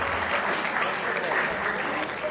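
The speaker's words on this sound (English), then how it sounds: "Let's give me a round of applause" An audience at an Igbo women's beauty and dance display in Australia gives a round of applause, a steady, fairly quiet spread of clapping with a few murmuring voices mixed in.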